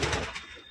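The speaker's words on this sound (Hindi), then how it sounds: "देखिए ये मेल गुटर रहा है और ये फीमेल है" A male fancy pigeon at a pigeon sale in Mumbai gives a brief, close, low coo that lasts under a second.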